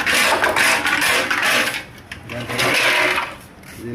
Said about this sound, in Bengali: আমরা এর মধ্যে নাট বল্টু সব ঢোকাই দিচ্ছি